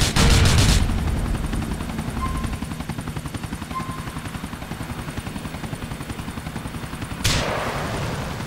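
Helicopter in the video game GTA 4, a steady close rotor chop throbbing throughout, with bursts of gunfire or blasts at the start and again near the end.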